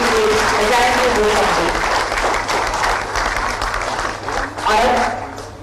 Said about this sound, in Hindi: एक बार जोरदार तालियां हम चाहेंगे